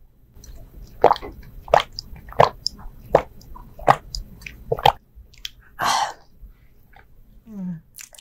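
Milk drunk at the start of an ASMR mukbang: a steady run of close, wet gulps and swallows at roughly even intervals, followed by a breathy exhale and a soft, brief throat sound.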